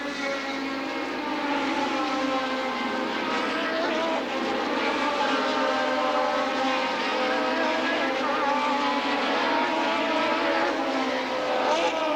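Racing cars at the 1982 Australian Grand Prix: a loud, continuous engine roar that holds steady across the whole stretch, with no voices.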